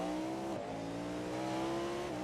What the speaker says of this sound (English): Good noises there. High revving motors.